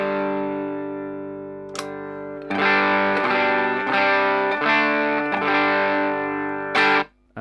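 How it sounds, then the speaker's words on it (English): An electric guitar through the cleaner of an amp's two channels plays sustained, ringing chords that change in a loose rhythm, with crisp pick attacks and a short gap near the end. "So the cleaner of the two channels sounds like this."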